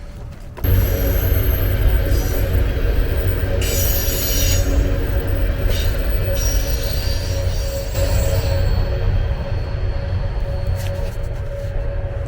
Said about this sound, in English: Okay, the train has passed